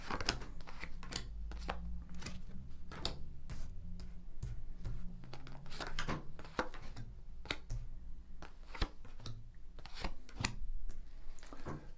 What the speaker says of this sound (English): So let's just shuffle your cards